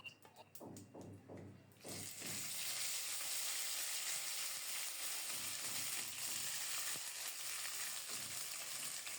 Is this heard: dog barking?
no